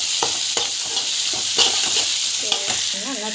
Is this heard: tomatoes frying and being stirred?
yes